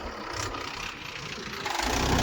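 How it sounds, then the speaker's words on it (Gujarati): A tractor hauling soil drives onto a farm, its engine a rough, steady rumble that grows louder as it approaches, with no talking. "આવી ગયું ટ્રેક્ટર"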